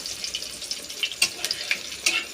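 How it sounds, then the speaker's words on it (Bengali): Potato-stuffed bread snacks fry in hot oil with a steady bubbling sizzle and frequent crackling pops, close up and fairly loud throughout. "গরম তেলে একদম দিয়ে দিচ্ছি আর এটাকে একটু ঝাড়িয়ে নিতে হবে"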